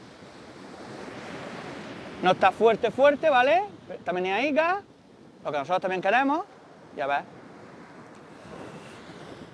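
Sea surf at a beach used for surfcasting, a steady soft wash of waves running continuously under a voice speaking Spanish in short bursts.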